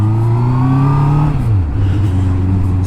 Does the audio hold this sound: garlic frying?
no